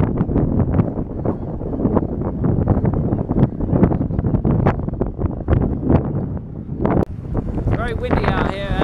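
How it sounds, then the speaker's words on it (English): Strong wind buffets the microphone in loud, constant rumbling gusts on a dust road in Sri Lanka, with a voice speaking underneath the roar. "It's very windy out here"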